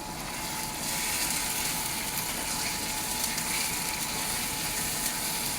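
Chicken and vegetables sizzle in a cast iron wok over high heat, a steady, dense hiss and crackle that holds evenly throughout without pause.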